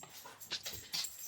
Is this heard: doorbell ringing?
no